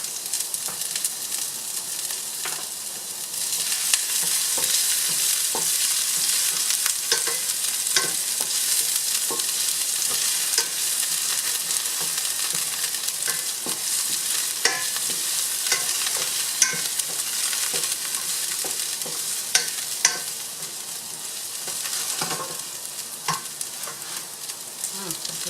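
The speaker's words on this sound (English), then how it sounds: "Okay, now hot oil. We're gonna put our garlic and saute it." Garlic sizzles in hot oil in a pan for a bean sprout and shrimp dish, a steady bright frying hiss with occasional stirring scrapes and pops, close and continuous with no voices.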